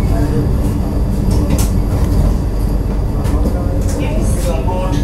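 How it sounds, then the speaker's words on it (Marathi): A Vande Bharat Express train pulls into Gondia station, filling the scene with a loud, steady, close rumble of rolling rail cars that holds without a break. "गोंदियाचा अरायवल बघा इकडे बरोबर करेक्ट टायमिंगला ट्रेन पोचली आहे."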